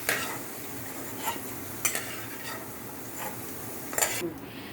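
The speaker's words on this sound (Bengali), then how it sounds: "এখন আমি কমল কাকড়ি যেগুলো ছেড়ে দেবো, দিয়ে ভাজা ভাজা করবো" Lotus stems fry in hot oil in a pan with a low sizzle, broken by several sharp scrapes and clinks of a utensil stirring against the pan.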